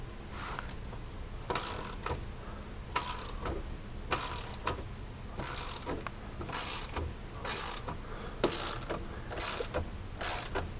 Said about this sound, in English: now we can go through and we can start tightening all the clamp hardware